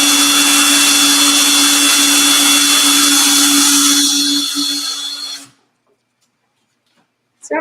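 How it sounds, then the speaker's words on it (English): A rotary burnishing tool polishes a leather edge, a loud, steady high-pitched whir that holds for about five seconds and then cuts off abruptly, leaving near silence before a brief noise at the end. "Let's just burnish up the edge."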